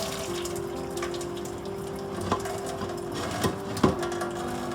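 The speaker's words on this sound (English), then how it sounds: "Next thing to do is to drain your potatoes completely." Water from boiled potatoes pours steadily out of a covered pot while draining in a home kitchen, a continuous wet rush with a few sharp knocks of the lid and pot near the end.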